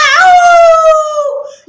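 A boy imitates a peacock's call with his voice, giving one loud, sustained, wavering wail that rises quickly, holds for over a second and then falls away.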